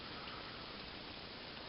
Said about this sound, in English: all of a sudden it just started raining, and there's been thunder going on.